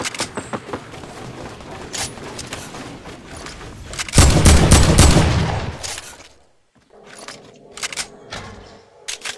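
Sniper rifle fire in a multiplayer shooter video game crackles as a run of rapid sharp shots, swelling to a loud burst of heavy gunfire midway before a brief silence, then scattered distant shots.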